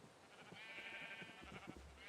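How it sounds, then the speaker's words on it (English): Sheep bleat in the Minecraft video game, a few short wavering bleats close up over a windy background. "My sheep are getting out again."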